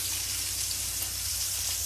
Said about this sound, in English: let's take a look at our little pork cutlets, I guess. I'm going to go ahead and give them a flip.